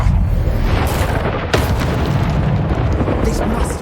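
A Bombarda spell blasts in the Hogwarts Legacy video game: a dense, roaring, booming rumble runs throughout, with a sharper impact near the middle.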